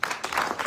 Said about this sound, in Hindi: जोरदार तालियों से स्वागत कीजिए प्रियंका।